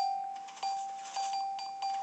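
A bell-like note sounds when a block is punched in a video game, a sustained clear tone struck again about four times in quick, uneven succession, each strike renewing the ringing.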